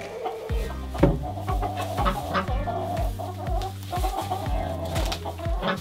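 Homestead chicken clucking close by: a run of rhythmic, repeated low clucks with some sharper squawk-like calls mixed in, continuous over several seconds and without speech.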